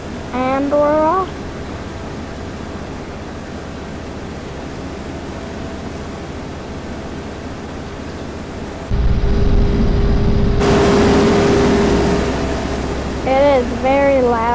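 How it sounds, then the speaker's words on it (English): A combine harvester's engine in Farming Simulator 25, harvesting beans: a steady low drone swells into a loud, roaring rush of noise partway through and holds there, with someone talking briefly at the start and end. "It is very loud in this combine"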